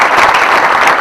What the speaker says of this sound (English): Okay, again clap.